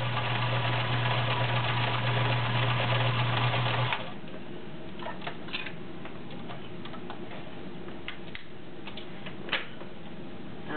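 Vintage 1970s Kenmore 1560 convertible sewing machine sewing a feather stitch, a loud steady mechanical whir with a low hum for about four seconds, then a softer, fainter ticking of the mechanism with scattered clicks.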